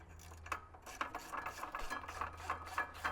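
A ratchet snugs up rear brake caliper bolts on an 80 Series, making quick, evenly spaced clicks in a steady run, close but soft over a low background hum.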